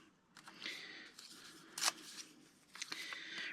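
Paper being torn by hand for a watercolor flower journal, a few short rough ripping bursts with one sharper tear in the middle, close up and fairly quiet, no talking.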